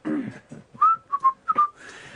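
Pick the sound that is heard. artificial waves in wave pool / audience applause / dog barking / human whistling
human whistling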